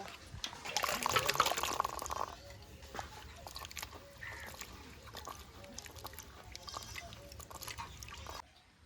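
Whole figs are washed in water in a home kitchen, giving soft sloshing, dripping and trickling that starts louder and then settles into quieter handling, with faint background sounds.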